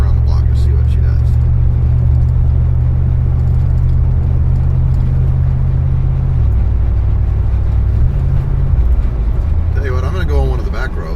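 A Chrysler New Yorker driving around the block, its engine a steady loud rumble from inside the car that drops in pitch near the end, with a voice talking over it.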